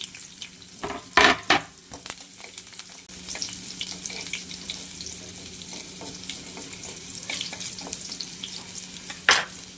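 Garlic and green chillies fry in hot oil in a pan, a soft continuous sizzle punctuated by clattering stirs and utensil knocks, loudest near the start and again at the end.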